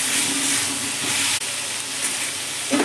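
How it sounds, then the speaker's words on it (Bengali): Sliced tomatoes hissing steadily in a pan with ginger-cumin paste, a close, even sizzle with a faint clatter near the end. "আমি দিয়ে দিচ্ছি এখানে টমেটো"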